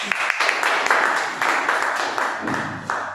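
Warm, sustained applause from an audience at a Toastmasters club meeting, a continuous dense roll of many hands clapping at moderate loudness throughout.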